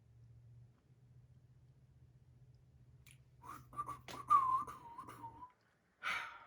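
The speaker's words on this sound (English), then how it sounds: "Forgot I can't whistle." A person tries to whistle, producing a breathy, wavering tone with airy puffs that trails off after a couple of seconds, over a low steady hum and followed by a short burst of breath noise.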